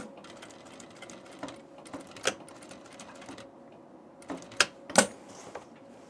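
An industrial sewing machine stitches fabric for a tunic in a steady mechanical whir, close by, with several sharper clacks and pauses while the work is repositioned.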